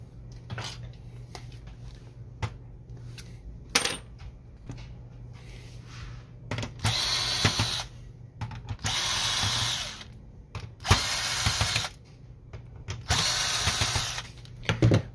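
Screws being unscrewed inside a Canon Pixma MG6820 printer during carriage unit replacement, with short bursts of power driver whirring and ratcheting between quieter clicks and handling noises, close and fairly loud.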